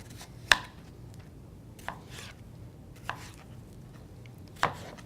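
A knife cuts plums into small pieces on a cutting board for a plum berry smoothie, giving four spaced, soft chopping knocks against a quiet background hum.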